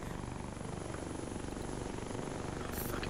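A helicopter in the military game Arma 3 drones steadily at a distance, a quiet, continuous rotor thrum and engine whine with no break and no voices.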